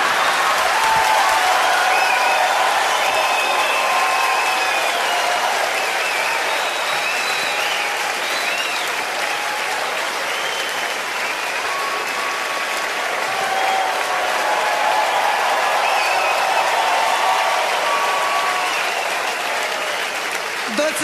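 A large audience claps continuously for a stage performance, dense sustained applause that stays loud and even for the whole stretch with no break.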